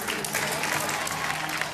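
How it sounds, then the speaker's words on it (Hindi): A studio crowd at a reality show grand finale breaks into dense, continuous applause, a loud, even wash of many hands clapping together for the whole stretch, with no voice standing out. "गैलेक्सी के लिए तालियां"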